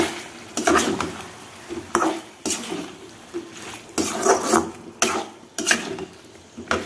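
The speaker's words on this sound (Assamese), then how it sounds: "এইখিনি বিলাহী, সৰু সৰু 2টা বিলাহী লৈছোঁ। এইখিনি অলপ দেৰি লৰাই দিওঁ।" Chopped tomatoes for an Assamese-style chicken curry are stirred in a pan, a spoon scraping and clattering in repeated strokes about once a second, with a soft sizzle underneath and no talking.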